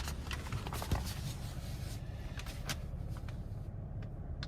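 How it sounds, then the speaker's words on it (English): Paper window sticker being handled inside a 2023 Chevy Camaro 2LT RS, with a series of light rustles and crinkles over a low steady cabin rumble, close and fairly quiet, no talking. "I'm gonna go ahead and grab this window sticker"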